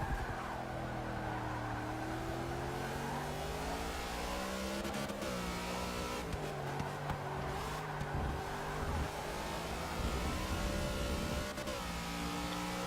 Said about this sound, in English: He's got that DVUK Motorsport Ford there, the No Fear Racing livery.